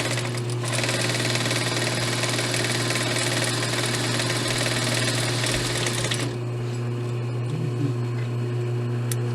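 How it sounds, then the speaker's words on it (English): A sewing machine runs steadily, stitching along the short side of a pillowcase band, its loud continuous motor drone and rapid needle clatter close by before easing off near the end. "Now we're going to take our band piece and sew along the short side"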